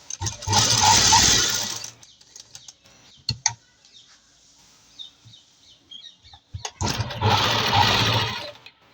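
A sewing machine stitching a kameez neckline runs in two loud whirring bursts at the start and end, separated by a quiet stretch of small clicks and fabric handling, with no speech.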